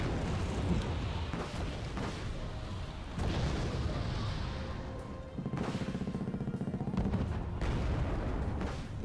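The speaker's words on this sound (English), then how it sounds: "And another bombing run." Bombs from air strikes in the video game Wargame AirLand Battle land as repeated deep booms and rumbling blasts, with dense battle noise and gunfire crackle running throughout.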